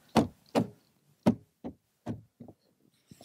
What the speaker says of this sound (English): give it a tap around the door